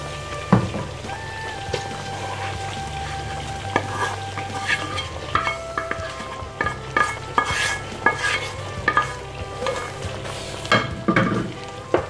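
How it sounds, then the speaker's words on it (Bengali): Lamb meat stirred with browned fried onions in a pan for a creamy lamb rezala, sizzling frying under repeated close scrapes and clinks of a spoon against the pan, with no talking. "এবার একটু নেড়ে দিচ্ছি।"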